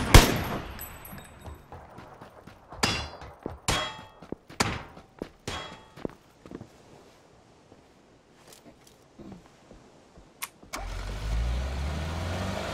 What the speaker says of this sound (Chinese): 等一下，他开摩托车冲过来